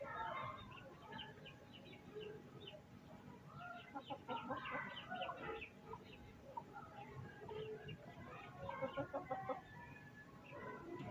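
A broody hen clucks softly and continuously while settling onto her eggs at night, the low murmuring clucks close by with fowl chatter throughout and a faint voice in the background.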